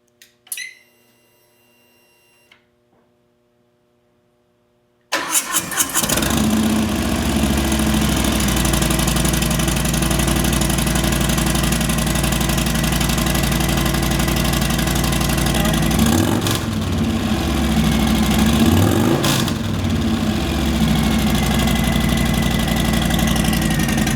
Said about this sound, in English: So she's going to fire it up. This will be her first time starting with the new exhaust.